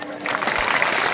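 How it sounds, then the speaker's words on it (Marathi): Clapping from an audience at a kirtan festival gathering in Beed, Maharashtra, a dense burst of applause swelling in and holding steady and fairly loud for a moment. "जोरात वाजवायच्या टाळ्या"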